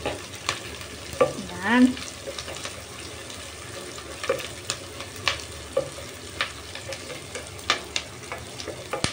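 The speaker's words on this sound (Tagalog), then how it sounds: "Lutuin lang din natin yung ating sibuyas." Sliced onions sizzle steadily in a hot pan while a utensil scrapes and stirs them in scattered clicks and scrapes, a short spoken word briefly over the frying.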